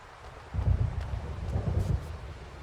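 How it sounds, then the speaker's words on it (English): Storm ambience from the Alan Wake video game: a deep, rolling thunder rumble swells and lingers over steady rain hiss, with no voices. "It seems there's a storm coming."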